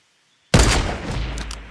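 A single sharp gunshot in a video game cracks out loud and close after a half-second of silence, followed by a rumbling decay and a couple of faint clicks.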